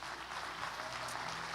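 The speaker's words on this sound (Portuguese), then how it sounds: "Você pode dar um aplauso a Ele?" Church congregation applauding during a Portuguese-language sermon, a short steady burst of clapping heard from within the hall, moderately faint.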